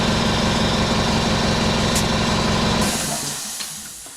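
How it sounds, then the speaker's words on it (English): Compressed air hisses loudly and steadily into a Honda Goldwing GL1500 motorcycle tire, then cuts off and tapers away near the end, close by with no talk. "Let's go ahead and try and get some air in it."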